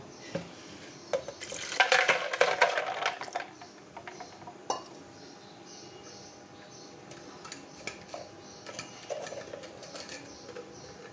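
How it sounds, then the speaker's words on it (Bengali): Ice cubes and cold water go into a bowl of sour yogurt for lassi. A short burst of clattering and splashing is followed by quieter scattered ticks and clinks, close by. "এবার আমি বরফ আর ঠান্ডা পানি নিয়েছি দিয়ে দেব"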